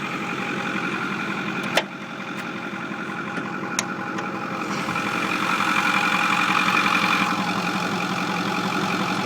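A modified Ford 6.4 Powerstroke diesel truck engine idles steadily and fairly quietly up close, with a couple of sharp clicks and a slight swell in the drone partway through.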